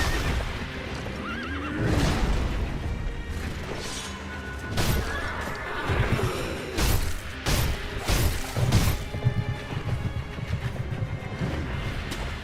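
In the video game Sekiro, a horse whinnies loudly, with hooves clopping and heavy crashes and thuds from a fight. The impacts come in irregular bursts over continuous game noise, with no talk.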